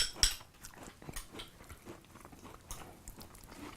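Close-up chewing of Hostess Donettes doughnut cereal in milk, crunchy bites and wet mastication repeating irregularly, with one sharper crunch near the start.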